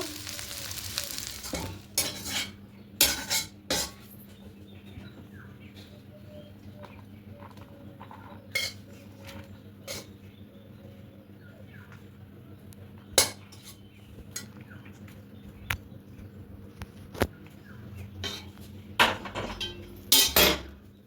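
Egg chow mein stirred in a pan, with repeated scraping and clinking of a utensil against metal over a steady low sizzle, sharp taps scattered throughout.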